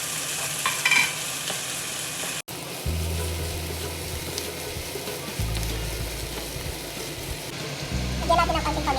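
Corned beef sautés in a pan, a close steady sizzle broken by stirring scrapes, while a person talks over it; a low hum comes and goes in the background.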